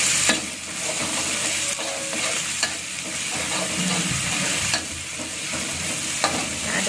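Chilies and kaffir lime leaves fry in a hot pan, a constant close sizzle broken by scraping stirs of a spatula, with no talk over it.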